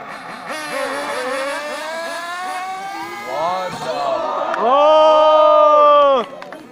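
Small motor cars race at NITK as a crowd cheers, with whining engines rising and falling in pitch. Voices shout over them, and a loud, sustained engine whine stands out near the end before cutting off.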